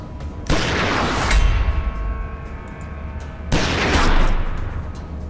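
Weapons fire against a pulse gunner in Wasteland 2 Director's Cut, Seal Beach Underground: two loud, sustained bursts of heavy shooting a few seconds apart, each rumbling out with booming tails.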